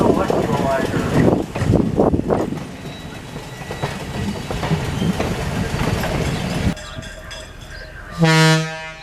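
The Electrolyzer train rolls past during a parade of trains, a loud rumbling rush with voices mixed in, then a short, strong blast of its horn near the end.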